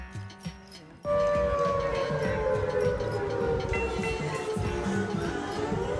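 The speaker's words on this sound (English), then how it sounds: "What does that siren mean?" An outdoor warning siren in a New Zealand town between Wanaka and Queenstown starts abruptly and holds a loud, steady wail, with a faint voice and street noise in the quiet moment before it begins.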